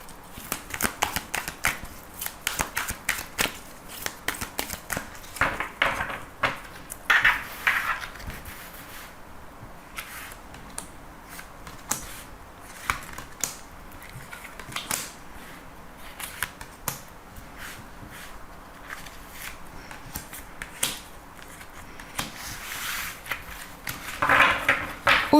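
Tarot cards are shuffled and drawn, giving continuous soft riffling, slapping and sliding card sounds close up, with light papery flicks throughout.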